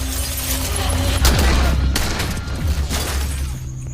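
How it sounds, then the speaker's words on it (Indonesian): Gunfire erupts in an action film scene, a dense loud fusillade of shots and booming blasts layered over a tense soundtrack throughout. "suara tembakan dari Mas Serbia dan Chino muncul"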